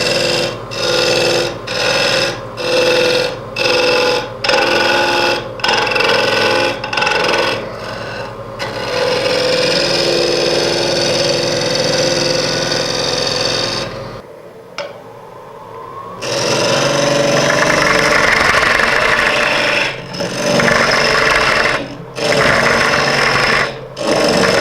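A wood lathe turns a birch root burl bowl, cutting in steady scraping bursts with a repeating rhythmic pulse, a short quiet pause partway through, then continued rough cutting noise, loud and close.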